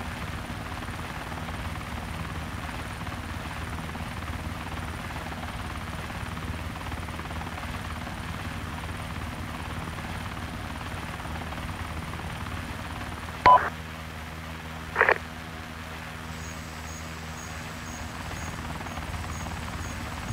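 MV-22 Osprey tiltrotor in the Arma 3 video game just after takeoff, a steady, fairly faint engine and rotor drone throughout, broken by two short sharp electronic beeps near the end.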